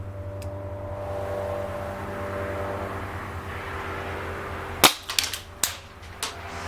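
A G&G GS-801 CO2 blowback airsoft pistol fires BBs outdoors, five sharp snappy shots in quick uneven succession after a few seconds of steady low engine hum in the background.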